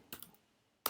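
Someone typing a CSS rule on a computer keyboard: a few quick soft keystroke clicks, a pause, then one more sharp key press, close and fairly quiet.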